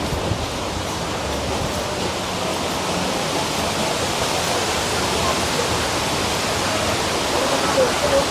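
Water rushes steadily at Wawa Dam, a dense, continuous roar of flowing current filling the whole stretch with no breaks, faint voices buried beneath.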